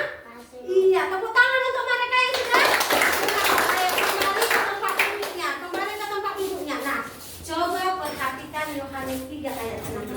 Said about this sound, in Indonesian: Tina, tepuk tangan tuh Tina.